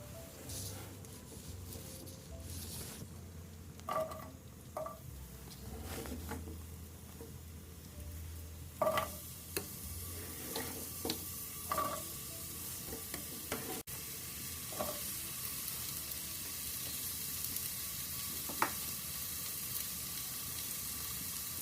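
Tofu and quinoa stir fry being stirred in hot coconut oil, with a steady close sizzle running throughout and scraping, clacking utensil strokes in irregular bursts.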